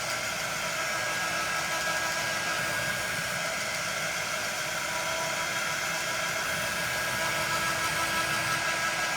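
A hair dryer blows steadily on a freshly painted welcome sign, a constant close airy whir with an even motor hum and no pauses.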